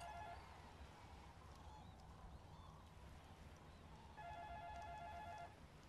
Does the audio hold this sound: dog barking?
no